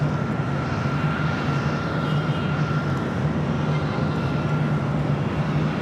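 A Boeing 787 Dreamliner arriving at Los Angeles International Airport, a steady, loud jet engine roar that holds evenly throughout without any break.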